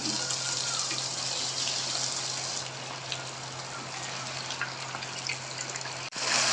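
Chicken pieces frying in about two cups of hot oil for a Peshawari Shinwari chicken karahi, giving a steady, close, loud hiss that carries on unbroken with a low hum underneath.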